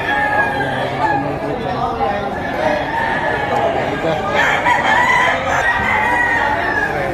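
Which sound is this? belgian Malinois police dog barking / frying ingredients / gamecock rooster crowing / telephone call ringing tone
gamecock rooster crowing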